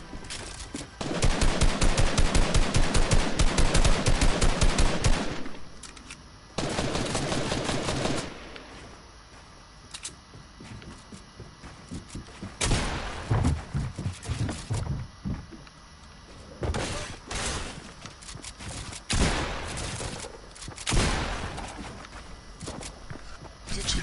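Rapid automatic gunfire in a video game comes in several loud sustained bursts with quieter gaps, mixed with footstep-like thuds and some player talk.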